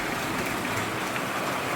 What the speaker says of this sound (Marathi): बरो लागला पाऊस.